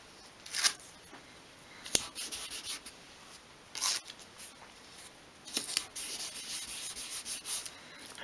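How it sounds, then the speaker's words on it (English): Masking tape pulled and pressed onto glued small wooden pieces of a 1/12th scale doll's house double bed, giving a few short, quiet, close ripping and rubbing bursts separated by pauses. "Squeeze them together and apply the tape, and turn over as well."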